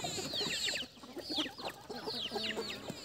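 Free-range desi Aseel chickens and fighter roosters cluck and make short, busy calls close by in an open farm area. The sounds overlap in a continuous chatter over a few seconds.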